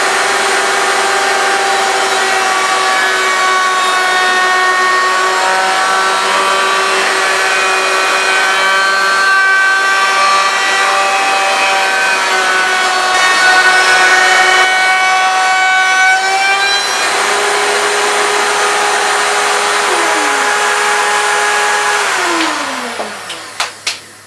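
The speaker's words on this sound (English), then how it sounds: "round over these edges on the router table" A router on a router table rounds over the edges of wooden push shoes. A loud, steady, high-pitched motor whine with cutting noise runs continuously for over twenty seconds, then spins down and stops.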